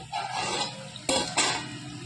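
A metal lid clinks off a pot of simmering chicken curry, two sharp close clanks after a soft bubbling sizzle, with no one talking.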